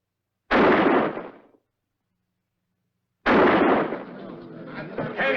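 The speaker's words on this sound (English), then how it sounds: "10 shots, gentlemen." Two sharp, loud gunshots ring out at an old western shooting exhibition. Each blast is separated by silence, and the second trails into a longer echoing rumble.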